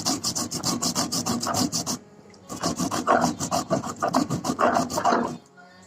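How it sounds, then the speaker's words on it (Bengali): Coriander and cumin being ground into a paste on a grinding stone, a rapid rhythmic rasping scrape in steady bursts, pausing briefly midway before resuming, close and loud with no talk. "এবার ধনে জিরেটা বেটে নিচ্ছি"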